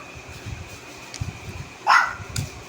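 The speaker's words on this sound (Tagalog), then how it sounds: "maingay yung mga aso namin." Several dogs bark and yip in short bursts in the background, with one louder, closer bark standing out near the end of the stretch; no one speaks over it.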